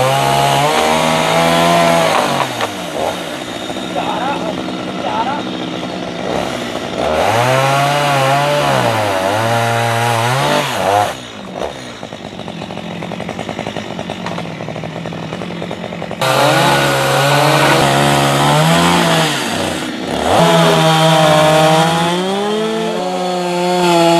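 A loud chainsaw runs continuously, its engine pitch rising and dropping as it bites into a tree high off the ground, revving and bogging down repeatedly, close and dominant.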